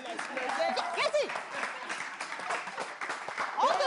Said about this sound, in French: Merci, applaudissez.